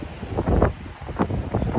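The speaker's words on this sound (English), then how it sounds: "We'll see if it's a little bit less windy over here." Wind gusts buffet the microphone outdoors at night in Miami near the Paramount building, a loud rumbling roar rising and falling in irregular bursts with no talk.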